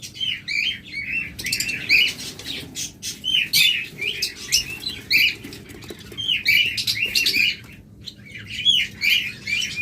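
A tame breeding pair of pet birds give repeated shrill chirps and squawks in quick bursts, close and lively, with a faint low background hum underneath.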